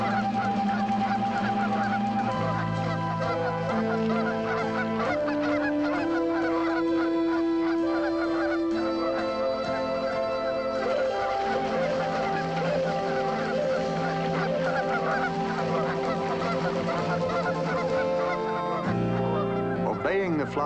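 A flock of wild geese honks continuously, loud and close, many overlapping calls over a long stretch. A voice speaks at times amid the calls.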